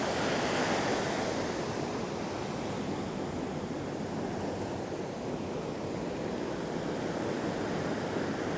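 Ocean surf breaking steadily at the water's edge of a Boca Raton beach in Florida, a continuous loud wash of waves with wind across the microphone and no voices.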